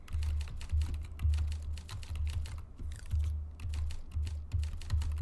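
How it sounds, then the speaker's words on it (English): Fast, uneven typing on a computer keyboard sounds close up, with clustered clicks and brief pauses between bursts over about five seconds. "I'm also really bad at typing, as you can tell."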